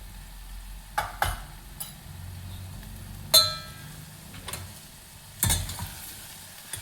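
Homemade Saoji masala with cumin and coriander powder is stirred into hot oil in a pan, giving a low sizzle broken by several sharp clinks and scrapes of a spoon against the metal.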